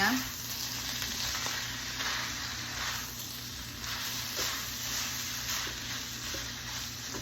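Zucchini frying with meat in a hot pan, with a steady close sizzle and occasional stirring scrapes throughout.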